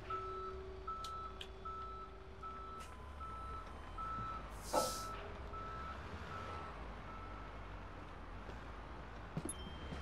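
A tow truck in the Police Simulator video game gives a string of reversing beeps at moderate distance, backed by a steady traffic rumble, a brief hiss, and a few faint clanks.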